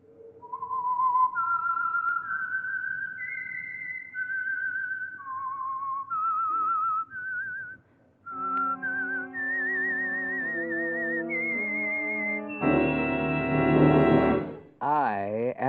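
The Whistler radio show's signature tune: a whistled melody of rising and falling held notes, alone at first, then joined by sustained orchestral chords swelling toward the end.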